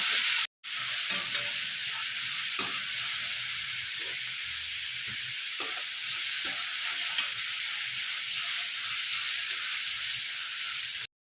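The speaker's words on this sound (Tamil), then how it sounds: "வெங்காயம் நல்லா கொஞ்சம் வதங்கட்டும்." Onions sautéing in a pan, a steady close sizzle with soft stirring scrapes scattered through it, starting after a brief cut to silence near the beginning and running evenly to the end.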